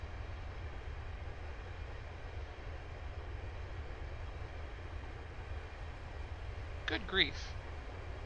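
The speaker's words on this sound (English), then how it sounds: "That is a pretty darn long train." A long train rolls past in Train Simulator 2015, a steady broadband rumble that carries on unbroken, with a brief spoken exclamation near the end.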